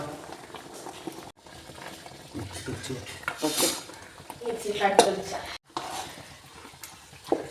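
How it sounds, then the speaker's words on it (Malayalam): Cooked macaroni pasta is stirred into a creamy sauce in a pan, giving intermittent scraping and soft clinks of a utensil against the pan over a low sizzle, while a person talks throughout. "പാസ്ത മിക്സ് ചെയ്തിക്കണ് നന്നായിട്ടൊന്ന് ഇളക്കി കൊടുക്കുക"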